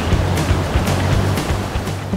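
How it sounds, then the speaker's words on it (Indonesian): Sea waves crash against coral rocks at Karang Taraje beach in Sawarna, a loud churning wash of surf with repeated splashing bursts, close and continuous. "Hempasan air yang tertahan batuan karang menciptakan cipratan yang memutih."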